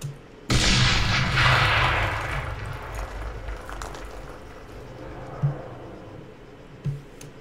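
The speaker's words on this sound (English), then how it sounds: "It's quite big, it's quite a big explosion." A big in-game explosion in the military shooter Arma 3: one sudden loud blast with a long rumbling roll-off, followed by two smaller distant thuds, with no talking.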